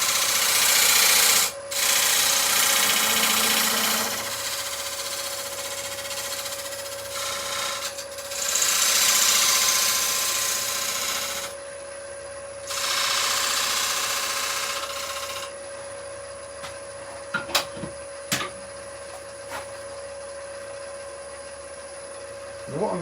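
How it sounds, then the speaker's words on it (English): A parting tool cuts into a spinning burr wood bowl on a lathe, giving loud, sustained broadband scraping in long bursts separated by brief pauses, over a steady tonal hum from the lathe. "I'm just going to grab the parting tool and I'm just going to level up"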